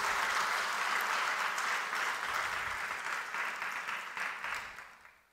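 A church congregation claps together in sustained applause, a dense, even roar of many hands that holds steady, then tapers off and fades out near the end.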